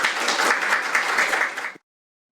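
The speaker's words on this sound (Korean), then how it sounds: "이진순 위원장님 박수로 맞아주십시오." Audience applause welcoming a speaker, the political-democracy subcommittee chair, to the podium at a Korean panel forum on broadcasting. A dense, steady burst of many hands clapping fills the room and then stops abruptly.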